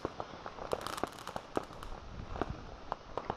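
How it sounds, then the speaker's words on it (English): Firecrackers and fireworks bursting in a rapid irregular string of sharp cracks and pops, fairly close and steady over a few seconds, with no voices. "Whoa, I'm just watching the fireworks."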